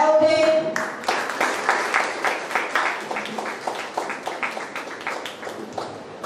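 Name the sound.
applause at a felicitation program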